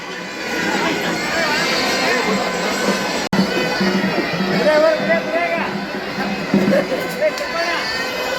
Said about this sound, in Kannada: ಸೊ ನೋಡ್ಬೋದು ಫುಲ್ಲು ಕ್ರೌಡ್ ಬರ್ತದೆ ಈಗ